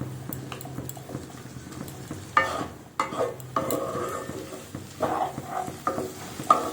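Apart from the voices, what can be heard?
stirring vegetable curry in a pan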